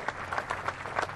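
Brief, scattered clapping from an audience at a Kennedy Space Center Visitor Complex honors event for the Mercury program, a few distinct claps at moderate distance.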